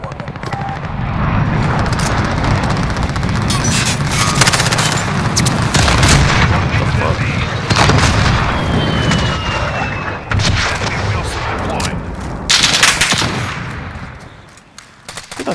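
Rapid gunfire and explosions in a large-scale Call of Duty Ground War match, loud dense bursts of shots and booms sustained across the whole stretch, with sharper cracks clustered near the middle and end.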